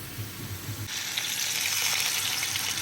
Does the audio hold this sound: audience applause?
no